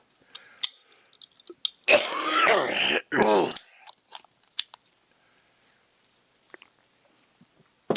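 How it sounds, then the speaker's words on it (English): Coughing after smoking a joint, a couple of harsh, loud hacking bursts in the middle, surrounded by quiet clicks and small handling noises. "Sorry for all the yakking, all the coughing. But trust me, that's just weed cough."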